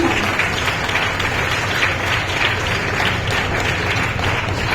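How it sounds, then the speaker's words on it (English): Steady, dense applause from an audience at a school felicitation ceremony, a continuous wash of clapping with no break. "So please give a huge round of applause to him."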